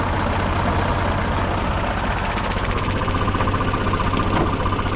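A used 27 hp ISEKI TA270 tractor engine runs steadily in second gear, a continuous low diesel hum with a faint rhythmic knock building slightly toward the end, heard alone without talk.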